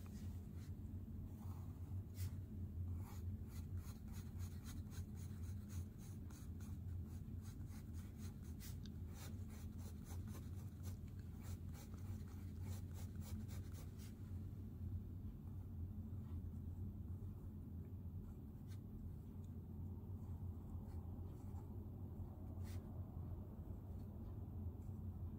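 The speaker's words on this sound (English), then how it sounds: "I'm just trying to draw like girly" A pencil scratches across paper in rapid, dense strokes that fade to lighter rubbing about halfway through, all set against a steady low rumble.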